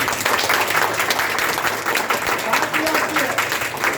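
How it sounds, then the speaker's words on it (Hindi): Applause from a workshop audience at a network marketing training session, a steady wash of many people clapping at moderate loudness throughout, with crowd noise mixed in. "तो कैसी तालियां होंगी?"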